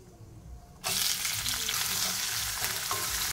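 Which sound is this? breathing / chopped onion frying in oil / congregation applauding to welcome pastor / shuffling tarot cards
chopped onion frying in oil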